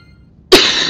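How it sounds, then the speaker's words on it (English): A single sharp, close cough bursting out after a brief silence and ringing on to the end. "Still got this fucking cough."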